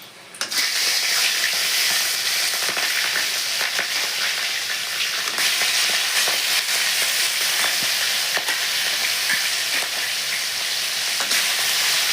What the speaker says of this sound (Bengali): তেলটা গরম হয়ে গেছে মাছের মাথাটা দিয়ে দিই